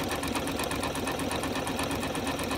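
Janome sewing machine stitching a one-step buttonhole, giving a steady, close, rapid mechanical whirr with a fast needle clatter that runs unbroken throughout.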